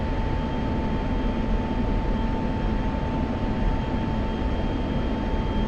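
An F-16 fighter jet's engine roars as a steady, loud, dense rush throughout its takeoff roll, with a constant whine sitting over the broad noise and no pauses.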